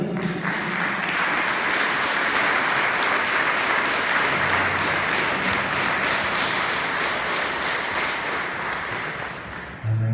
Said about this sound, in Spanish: Yo te voy a pedir que le des un fuerte aplauso a Dios.